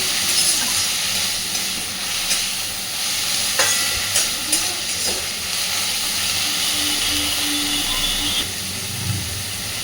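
Spices fry in a pan with a loud, continuous sizzle and hiss, broken by scraping stirs and a few sharp utensil knocks, ending with a low thud.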